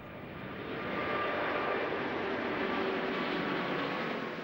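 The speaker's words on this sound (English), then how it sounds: "There's also the Airbus A380, the world's biggest passenger jet." An Airbus A380 four-engine passenger jet passes overhead as a steady, broad roar that swells over the first second and then holds, distant and unbroken, with no voices.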